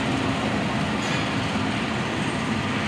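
The Argo Cirebon passenger train rolls through Manggarai station with a loud, steady rumble and dense wheel clatter close by, continuous for the whole stretch.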